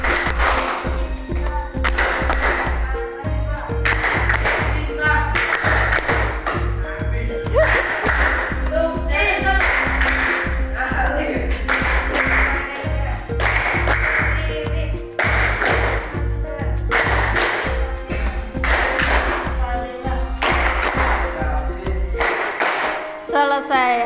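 A class claps in a steady, rhythmic pattern for roll call, sharp repeated handclaps in regular groups with voices between the claps, continuing evenly until the end.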